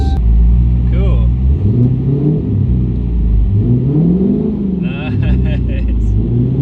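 A Dodge Hellcat Redeye's engine rumbles and revs repeatedly, with rising and falling engine tones over a deep idle, while people talk nearby.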